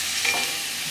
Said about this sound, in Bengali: আজকে আমার বর ভাজা শুরু করে দিচ্ছে